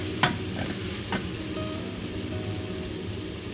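Shanghai bok choy stems stir-fried in hot oil over high heat, a steady broadband sizzle with a couple of sharp spatula scrapes near the start, close and continuous with no voices.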